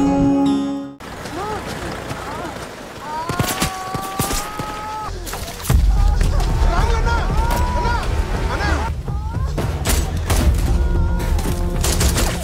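Gunfire bursts from a 1979 shootout between Naxal rebels and police in the Indian film Virata Parvam, sharp loud cracks and volleys erupting among shouting voices and dramatic music, intensifying after the midpoint into a dense, continuous din.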